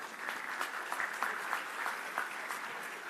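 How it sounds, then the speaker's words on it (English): An audience at a county state-of-the-address speech breaks into applause, a steady wash of many hands clapping, heard from a distance and fairly soft, with no speech over it. "That's a clap line"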